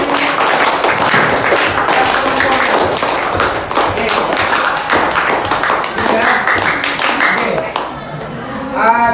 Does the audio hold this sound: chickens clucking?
no